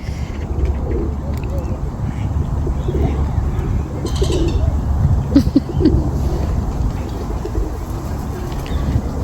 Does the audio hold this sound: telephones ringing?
no